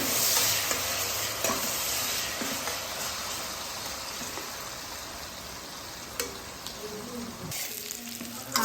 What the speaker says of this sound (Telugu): ముక్కలైతే మంచిగా ఆయిల్లో ఫ్రై అవుతున్నాయండి